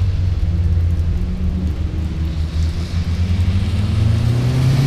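Car pulling away after heavy braking on the Motorland Suzuka circuit, a loud low engine drone rising steadily in pitch as it accelerates, close and uninterrupted.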